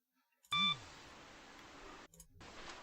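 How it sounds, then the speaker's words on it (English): A short electronic beep sounds once as a video starts, a clean bright tone lasting a fraction of a second, followed by a faint hiss. "The beep when it starts."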